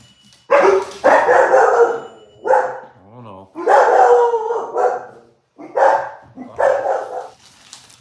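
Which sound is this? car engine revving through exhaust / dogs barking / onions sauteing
dogs barking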